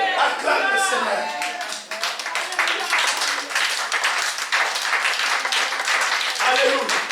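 Church congregation clapping and applauding in worship, a dense, steady wave of many hands that runs loud through the whole stretch, with voices calling out and singing over it.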